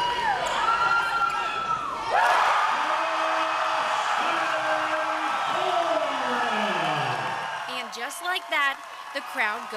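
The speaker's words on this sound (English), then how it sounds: "The crowd goes wild." Wild cheering and shouting from a basketball gym crowd, loud and sustained across the clip, mixed with whoops and voices, with sharper bursts near the end.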